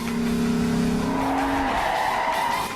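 A car drifting at an event in Kentucky, its engine droning loudly as the tires squeal in a long sustained screech that shifts pitch partway through and holds steady to the end.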